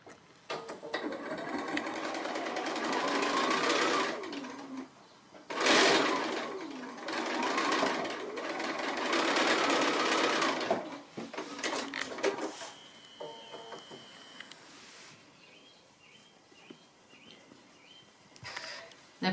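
A sewing machine stitches a quilt block seam, its motor whirring steadily with a fast needle chatter for long stretches, briefly stopping and restarting, then slowing to lighter intermittent clicks and handling noises.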